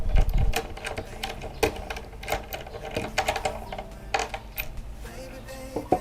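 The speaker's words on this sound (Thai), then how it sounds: "วิธีการเปลี่ยนเราก็ใช้สเก็ตทูนะครับ ขันออก" A skate tool unscrewing a part on a Sixtysix surfskate, heard as close metallic clicking and ratcheting taps with small rattles, irregular and busy over a faint background, no talk.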